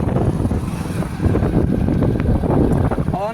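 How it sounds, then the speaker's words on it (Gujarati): Cool wind blows steadily and strongly across the microphone near farm orchards after rain, a constant rumbling rush throughout. "ઠંડો ઠંડો ફૂલ પવન આવે ઠંડો ઠંડો"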